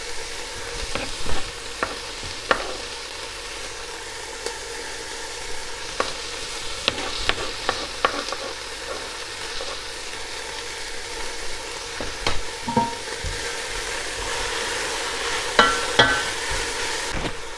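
Chopped ginger fries in a pan for a red lentil curry, a steady sizzle broken by scattered scrapes and knocks of a spoon stirring, close and alone without speech.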